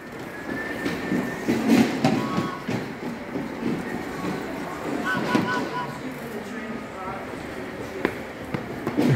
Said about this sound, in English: Christmas train.